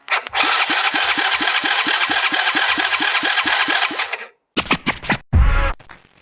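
A small carbureted engine, held by hand with its tank and a poor wiring harness, is cranked in a fast rhythmic run of about fifteen close chugging strokes, then a pause, short sputtering bursts and a final roar that cuts off.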